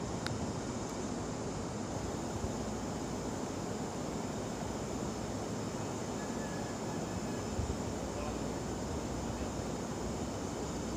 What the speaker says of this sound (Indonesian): Suara angin lawu ini teman-teman ya.